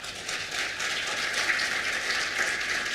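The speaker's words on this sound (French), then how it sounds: "Je laisse la parole à notre ami Pascal, que vous pouvez applaudir" Audience at a conference in Dakar applauding a speaker's introduction, a dense, steady wash of many hands clapping at moderate distance, continuous for a few seconds with no talk over it.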